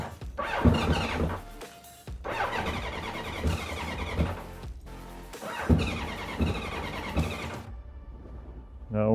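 A 1983 Honda CB1100F motorcycle engine cranks on a start attempt after years of sitting, in several long bursts of rough, rhythmic churning separated by short pauses, fairly faint and close.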